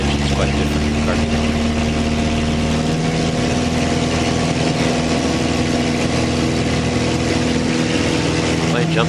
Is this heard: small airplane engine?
yes